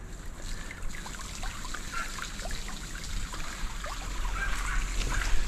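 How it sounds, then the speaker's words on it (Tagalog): A weak flow of water from a hose trickles and dribbles steadily, with small splashy bubbling drips over a low constant hum, close by and without talk. "mahina ang tubig."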